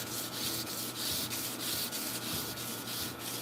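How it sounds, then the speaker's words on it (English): Sandpaper rubs by hand along a sword blade in a steady back-and-forth rasping rhythm, fairly quiet and close, with no voices. "this is good sandpaper too"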